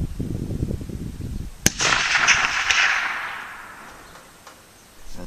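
A single sharp rifle shot with a flat-nose bullet, fired at a target 250 yards out, cracks once and then rolls into a long, fading outdoor echo, loud and alone with no talk.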